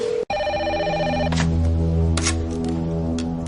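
A telephone rings with a steady electronic trill, and a low hum sits under it. Soft clicks and knocks follow as the ringing gives way to the hum.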